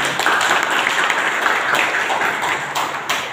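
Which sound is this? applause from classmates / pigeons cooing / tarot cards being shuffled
applause from classmates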